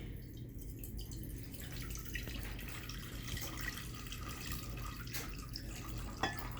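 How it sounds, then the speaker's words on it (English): Vinegar poured out of a container into a sink during an eggshell-dissolving experiment, a faint continuous trickle with small drips and splashes, no talking. "I am going to pour out my vinegar"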